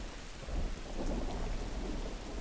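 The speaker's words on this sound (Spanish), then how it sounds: "Una tormenta ni lejos de madre la que está cayendo." Heavy thunderstorm rain in The Last of Us, a dense, loud, continuous downpour with a deep rumbling undertone, steady throughout with no voices.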